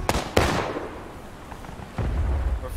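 A musket volley in the Civil War battle game War of Rights, with two sharp close gunshot cracks at the start followed by a rumbling roll of more distant firing.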